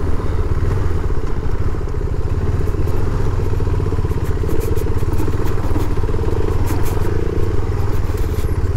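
Motorcycle ridden on the way to Vandri Lake near Mumbai, its engine chugging steadily and loudly up close, with wind rush and occasional clicks and clatter throughout.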